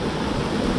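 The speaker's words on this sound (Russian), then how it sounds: "Сюда вода поливает, брызгает." Water sprays and splashes at an outdoor water park, a dense, loud, continuous rushing hiss with no breaks.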